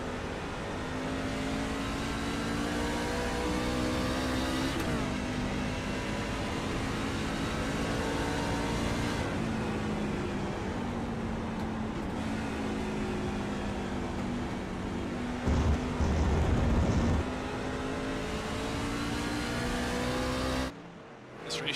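Race truck engine running on a track at Milwaukee Mile, steady loud drone with harmonic pitch shifts as it downshifts, holds, then throttles up, continuous throughout with a brief cut near the end.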